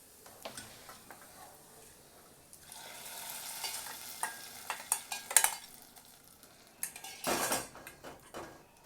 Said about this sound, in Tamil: கொட்டிட்டு மாவை கலந்து